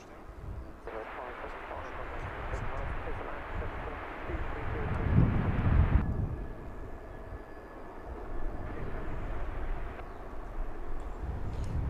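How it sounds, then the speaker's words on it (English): A British Airways Airbus A319 comes in to land at London Heathrow, a moderate jet rumble and whine swelling toward the middle, with someone talking over it at times. "This is British Airways 575,"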